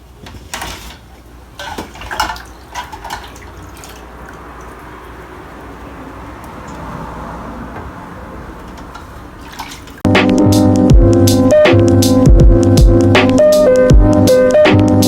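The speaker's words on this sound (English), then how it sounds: "Now I will be rinsing the parts of the food processor to remove any soap, water on it." Running water splashes and clatters over hard plastic food processor parts for several seconds, then a steady, louder stream pours close by with rattling and knocking.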